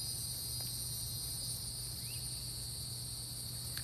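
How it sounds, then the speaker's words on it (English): Crickets chirp outdoors in a steady, high, continuous trill that stays even throughout, with no voices present. "those crickets, they be buzzing"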